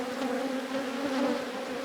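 Honey bees hum inside an opened, queenless hive with brood frames exposed, a steady mid-pitched buzz with clear tonal bands that stays fairly near and even throughout.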